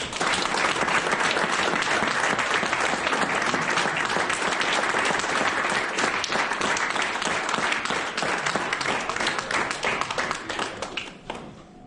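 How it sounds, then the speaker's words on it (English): Sustained round of applause from a banquet audience at a high school wrestling awards banquet, dense and steady for about eleven seconds before tapering off at the end. "give them one last round of applause"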